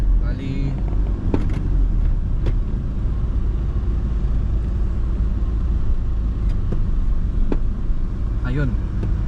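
Rush-hour road traffic rumbles steadily as heard from inside a moving car, a constant low engine and road drone with a few faint brief clicks and tones over it.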